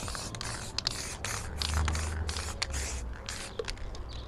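Aerosol guide coat sprayed in short hissing bursts over body panels of a Fiat Uno SX during prep work, close and fairly steady with brief pauses between passes.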